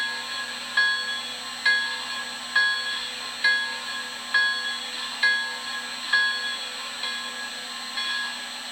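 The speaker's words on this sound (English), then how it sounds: "And next is the bell." Bell of an MTH Railking 0-6-0 B6 model steam switcher with Proto Sound 3.0, ringing in an even steady rhythm of about ten clear strikes, close and moderately loud.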